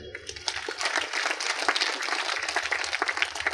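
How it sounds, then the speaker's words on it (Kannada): A crowd claps loudly and continuously, a dense wash of applause swelling after a brief start, with a low voice faintly audible underneath. "ಇನ್ನೊಂದು ಪಿಲ್ಲರು ನಮ್ಮ ರಂಗಣ್ಣ ಜೋರಾಗಿ ಚಪ್ಪಾಳೆ."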